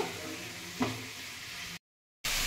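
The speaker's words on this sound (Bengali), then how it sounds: "এবারে আমি এগুলোকে ভালো করে সতে করে নেব।" Chopped beans, capsicum and green chillies sauté in a pan with a soft, steady sizzle and a brief stir, cutting out abruptly near the end.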